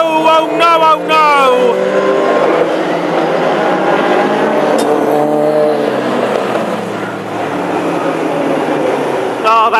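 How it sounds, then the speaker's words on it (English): Hot rod race cars at a Birmingham oval meeting roar past loudly as wheels rub and cars crash into the wall, a continuous engine drone over roughly ten seconds with an excited commentator shouting over it. "I think the wheels just rubbed and they helplessly lost control and into the wall they went"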